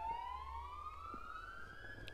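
A distant emergency siren wails, its pitch sweeping slowly upward, faint against a low background hum.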